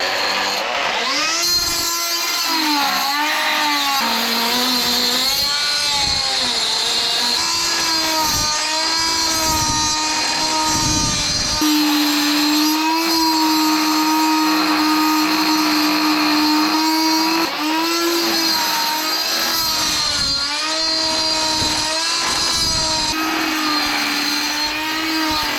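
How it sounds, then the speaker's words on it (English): A high-pitched rotary cutting tool whines steadily, its pitch wavering and dipping as it bites into metal on an automotive repair job, loud and close without a break. "a special cutting tool. The high-speed spinning rotary hammer."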